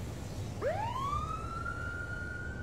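A single police siren whoops upward and then holds a steady wail, heard alone against a low background hum.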